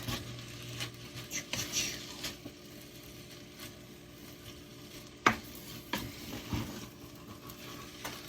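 A spoon works through stuffed pepper filling mixed with tomato sauce in a pan, giving soft, irregular scraping and stirring with a faint sizzle underneath and one sharper clink, quiet and close.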